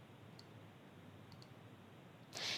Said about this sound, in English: You can also access any documents that are stored with the child's file by clicking the paperclip icon on the top right-hand corner.